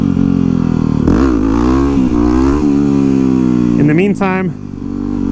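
A 2009 Yamaha WR250X supermoto engine revs hard during wheelies, loud and close, its pitch climbing and dropping in surges under steady wind roar while a rider talks over it.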